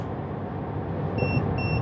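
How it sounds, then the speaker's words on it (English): Two short electronic overspeed warning beeps from a heads-up display, high and thin, sound over a steady road and engine rumble inside a moving car. "It did start beeping, letting us know that we are going too fast."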